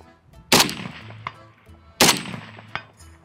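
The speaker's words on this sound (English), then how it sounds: "I'm gonna try and do some rapid follow-up shots, essentially." A DMR rifle fires two sharp, loud shots about a second and a half apart, each followed by a short ringing decay and a faint metallic click.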